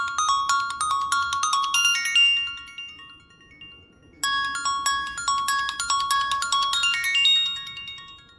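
A mobile phone plays a bright, jingling electronic ringtone melody loudly and on its own, in two long bursts with a short gap between them.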